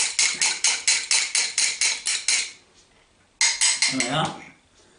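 A whisk beats an egg in a bowl for pancake batter: about ten rapid, even clinks against the bowl, a short pause, then a few more quicker strokes, close and fairly loud.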